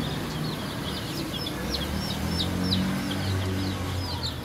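Baby chicks cheep in a pet shop as a string of small, high peeps repeats through the moment. A low, steady background hum sits underneath, and no one speaks over them.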